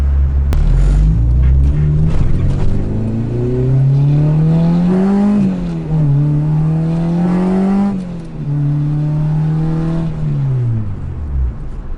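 A car fitted with a Skunk2 MegaPower RR exhaust revs up and down loudly and close by, with rising and falling whooshing exhaust roars over several seconds.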